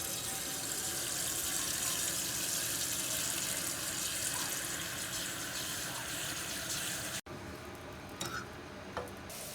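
Boiled water for cooking tapioca pearls is poured in a steady, loud rushing stream for about seven seconds, then stops abruptly, leaving a few small clinks and drips.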